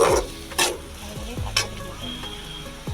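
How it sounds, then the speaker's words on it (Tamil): Onions sauté in a pan for a hotel-style vegetable kurma, under a continuous sizzle. Several sharp spatula knocks and scrapes are close and loud, and no one speaks. "வெங்காயம் போட்டு வதக்கிக்கணும் நல்லா"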